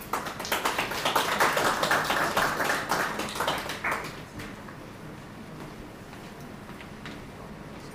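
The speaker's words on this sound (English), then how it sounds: "Let's give them a round of applause." Audience at a workshop opening ceremony for a national low-carbon transport program breaking into applause, dense steady clapping for a few seconds that thins and fades into faint scattered claps and room noise.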